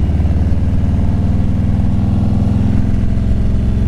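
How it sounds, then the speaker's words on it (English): Loud motorcycle engine with an aftermarket exhaust rumbling close by, a deep steady idle with slight pitch wavering and no talking. "my bike's loud enough already"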